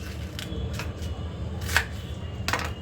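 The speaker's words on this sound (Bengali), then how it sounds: "আমি একটুখানি বাঁধাকপি কুচিয়ে নিচ্ছি" Knife chopping cabbage on a board in a home kitchen, a steady series of close, crisp cuts with a few sharper knocks, heard alone with no talk.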